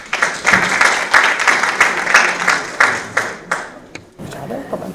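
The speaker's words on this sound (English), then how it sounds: "Can I hear a round of applause," An audience at a live lecture event gives a burst of dense clapping that builds, holds for several seconds, then tapers into scattered claps and quiet room noise.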